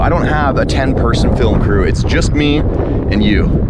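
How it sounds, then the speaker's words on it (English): Strong outdoor wind buffets the microphone with a constant low roar while someone talks close up over it. "It is extremely windy right now,"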